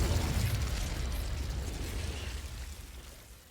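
Confringo fire spell from the Hogwarts Legacy video game exploding in a loud, rumbling blast that gradually fades over a few seconds.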